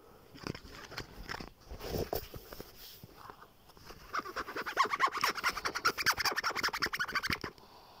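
Quiet scratching close up: irregular scrapes at first, then a quicker run of rhythmic rasping strokes that stop abruptly.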